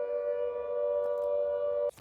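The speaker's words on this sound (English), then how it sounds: "we can still hear that air raid siren" An air raid siren in the video game Arma Reforger holds one steady, loud, droning wail, then cuts off abruptly near the end.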